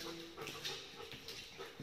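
A large dog whimpers faintly in short whining bursts during a walk outdoors at night, with quiet footsteps and no talk.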